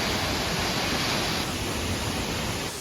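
Mactol Falls waterfall in Nagtipunan, Quirino, a steady dense rush of falling water, loud and close, with no voices.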